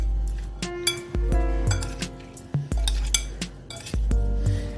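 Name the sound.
mixing potato chips with a spoon in a bowl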